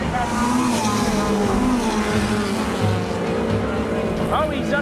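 Race cars roar around Lime Rock Park in a continuous loud engine drone with shifting pitch and a brief tire squeal, while people talk excitedly over the noise.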